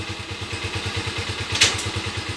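A Motor Star 175cc motorcycle with a running-clutch fault idles in steady, close putters, then one sharp click marks the shift into first gear before the idle rhythm carries on unchanged.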